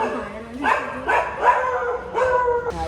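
Dogs bark in a residential neighbourhood, close and fairly loud. About five sharp, yelping barks come in an uneven series, with someone talking alongside them.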